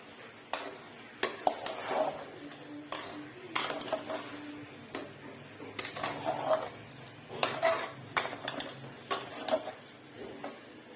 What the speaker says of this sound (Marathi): तर आता हे तांदूळ हलवून घ्यायचं.